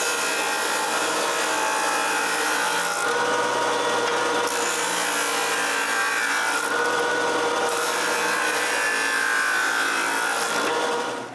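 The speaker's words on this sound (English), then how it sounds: "I can cut to length both pieces at the same time. And sand their ends round." A power tool cuts and sands two wooden pieces for an old workbench crisscross, producing a loud, continuous high-pitched whine and grinding rasp that dips briefly twice, with no voices.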